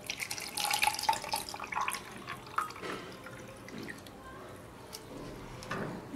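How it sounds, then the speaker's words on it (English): Water splashes and trickles as it is poured into the chamber of a homemade Arduino water dispenser, close by, with some dripping and a brief voice partway through. "Let's pour the water into the chamber."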